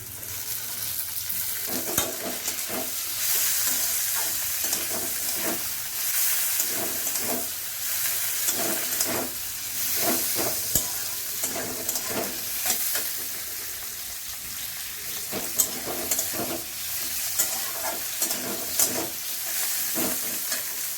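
Masala for dhaba-style egg kosha sizzles and fries in a pan while being stirred, with a continuous hiss broken by repeated scraping strokes of the spoon, close and with no talk.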